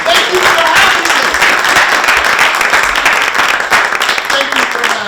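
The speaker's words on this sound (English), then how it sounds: "Give yourself a round of applause." Steady audience applause fills the hall after a lecture on Martin Luther King Jr., a loud, continuous wash of clapping with no break for the full stretch.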